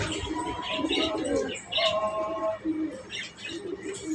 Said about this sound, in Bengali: এখানে দেখতে পাচ্ছেন দেশি জাতীয় জড়া কবিতর আছে